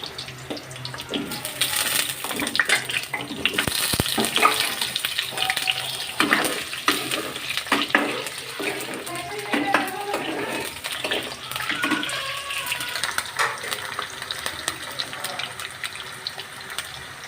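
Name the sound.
potatoes frying in oil in a wok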